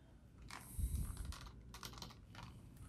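A wireless computer keyboard is typed on in brief clusters of light, close key clicks over a low hum, with no talking.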